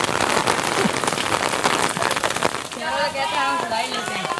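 Heavy stormy rain pours steadily on surfaces in a village in Punjab, Pakistan, dense and close, with a brief whistling tone in the second half.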